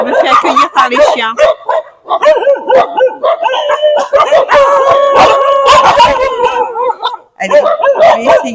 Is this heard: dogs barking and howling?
yes